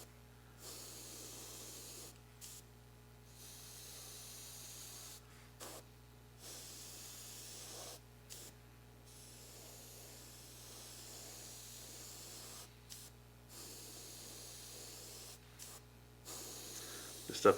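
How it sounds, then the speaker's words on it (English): Airbrush spraying Mr. Weathering Color onto a scale model drop tank for a P-40F Warhawk build, a steady soft hiss in repeated bursts separated by brief pauses, faint and close, with occasional breaths. "and literally just spray the tank."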